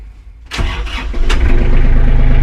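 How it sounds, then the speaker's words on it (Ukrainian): A small diesel engine of a Hinomoto NX 321 compact tractor cranks and catches after a quiet moment, then settles into a loud, steady running rumble close by. "тракторець заводиться"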